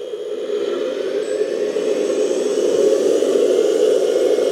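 An electric motor whines steadily on a Kabolite K3362 4x4 RC dump truck as it drives and shifts into forward, a close, continuous, loud whir that rises slightly toward the end.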